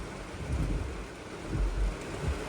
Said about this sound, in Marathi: असं नुसतं ओततोय ओततोय पाऊस